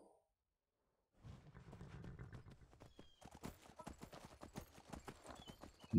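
Horse galloping in The Elder Scrolls V: Skyrim Special Edition, rapid rhythmic hoofbeats that start after a brief silence and speed up into a steady close gallop, with no talk.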